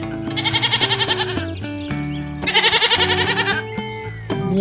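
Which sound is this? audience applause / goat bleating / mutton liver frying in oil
goat bleating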